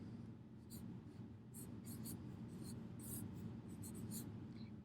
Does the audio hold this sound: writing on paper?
yes